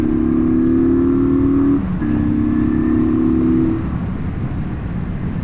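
A Kawasaki VN900 Custom cruiser motorcycle accelerating from 30 to 60 to overtake, a loud steady engine drone that dips briefly at a gear change, then carries on before easing to a lower hum.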